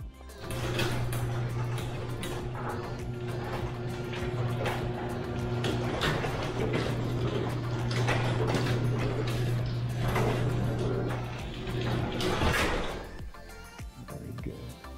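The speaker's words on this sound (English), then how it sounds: "Test the motor." LiftMaster garage door opener motor running during a test after gear sprocket assembly replacement, a steady mechanical hum with rattling and clicking that runs for about twelve seconds, then stops.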